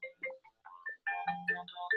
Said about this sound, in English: Vivek, can you take the phone, please?